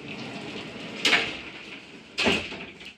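A glass shower door in a 2023 Flagstaff Classic 826MBR slides with two quick swishes about a second apart, each with a light rattle, over a faint steady background hiss.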